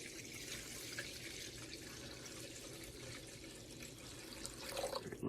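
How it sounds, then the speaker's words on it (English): Water pours steadily into a pan heating on the stove, a soft continuous splashing and trickling that stays faint throughout. "But let's go ahead and add some water."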